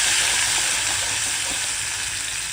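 Ground green masala sautéing in a pan with cumin and asafoetida, giving a dense, even hiss of frying that fades slightly over a couple of seconds, no talking.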